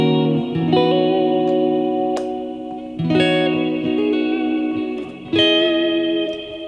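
An electric guitar plays a few ringing chords and notes drenched in reverb, each strum sustaining with a shimmering, echoing tail.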